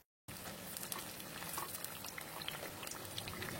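Krupuk crackers deep-fry and puff up in hot oil, a steady close crackling sizzle with fine bubbling pops that runs without pause after a brief silent start.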